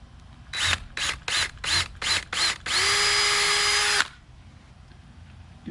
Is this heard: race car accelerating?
no